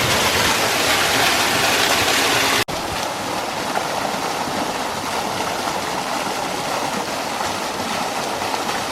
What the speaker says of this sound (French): Une cascade.